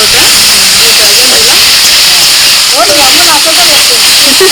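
Water spinach (shushni greens) frying in oil with chilli in a village kitchen, a loud continuous sizzling hiss with clinks of stirring scattered through.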